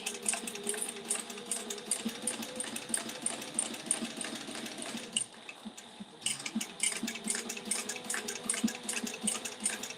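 A sewing machine stitches a backpack lining closed, a fast, steady, close mechanical chatter that runs continuously, dips briefly in the middle, then resumes at full speed.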